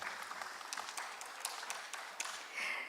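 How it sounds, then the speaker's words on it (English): Applause for a speaker at an international investment and global affairs conference, scattered distinct claps from a modest crowd, fairly quiet and steady. "Big round of applause for him."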